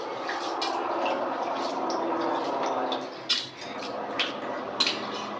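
Water is drained off washed rice in a home kitchen, a continuous pouring rush for a few seconds that stops, followed by a few light clinks of a metal pot.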